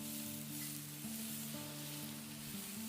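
Mushrooms sizzling in melted butter in a pan over an open braai fire, a steady, fairly quiet frying hiss with no talk.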